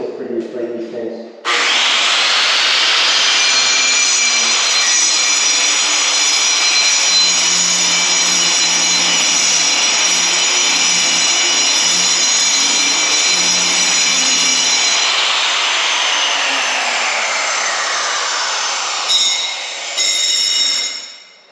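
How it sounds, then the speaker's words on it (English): Concrete floor grinder running without any dust shroud or dust protection while an epoxy floor is prepared in a garage, a loud, steady high-pitched whine and roar that starts abruptly, holds for nearly twenty seconds, then winds down. "So this is the grinder without any dust shrouding or dust protection."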